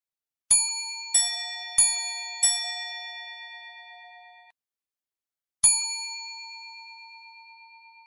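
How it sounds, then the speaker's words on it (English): An aviator-style clock sounds its fourth quarter chime as four bright metallic dings struck in quick succession. After a short silence comes a single ringing bell for one o'clock, and each tone is clear and lingers with a long decaying ring. "the fourth quarter chime rings out, followed by the single 1 o'clock bell"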